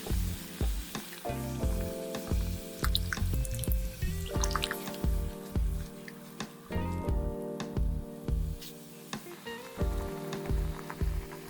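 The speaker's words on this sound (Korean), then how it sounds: "만들어뒀던 떡볶이 양념을 넣고 한 번 더 끓여줍니다" Tteokbokki sauce simmers in a pot with fish cake and shiitake, bubbling and sizzling up close, with irregular pops, drips and occasional clinks of stirring over a constant busy bubbling bed.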